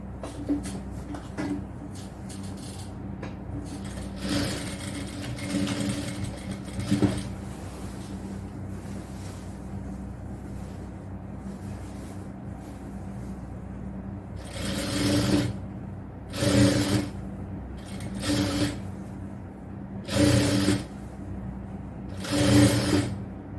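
A domestic sewing machine stitches a triple-frill nighty in a tailoring class, running in a steady long stretch and then in several short bursts, close and moderately loud over a faint steady hum.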